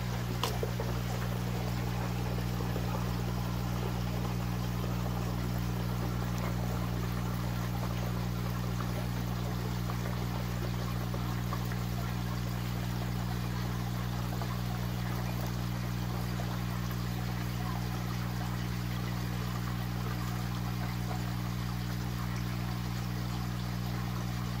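Water pours and trickles steadily through a homemade double-barrel filter built from barrels and a crate, a constant rushing flow with a low pump-like hum beneath it, no voices.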